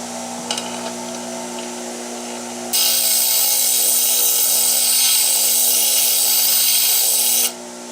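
Bench grinder's coarse 36-grit wheel being dressed with a Forney dresser indoors: a steady motor hum, then a loud, harsh grinding rasp bursts in and holds for about five seconds before cutting back to the hum.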